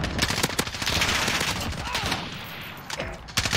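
Desert Eagle pistol gunfire in Call of Duty Modern Warfare, dense, loud, close shots in quick succession, blending with other gunfire through a short burst of combat.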